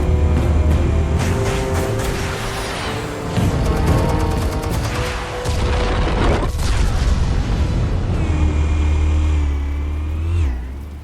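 Explosives detonating in the Telltale Batman video game: heavy booming blasts roll through a long, loud sequence, mixed with roaring engine-like rumble and rising mechanical whines, ending in a sharp fading sweep.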